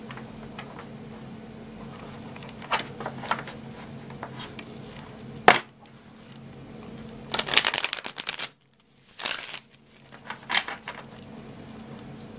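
Tarot cards shuffled by hand in short riffling bursts, close and fairly quiet, with brief pauses between sweeps and no talking.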